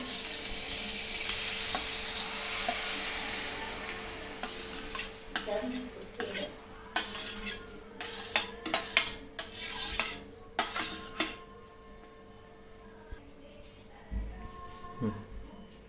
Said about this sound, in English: Now put a chopped tomato in the pan.